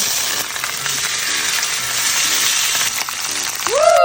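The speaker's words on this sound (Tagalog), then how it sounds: "kaya pinirito muna ni madam" Fish frying in oil in a new pan, a steady bright sizzle with occasional light clinks of a utensil, close and continuous, with a brief whistling tone near the end.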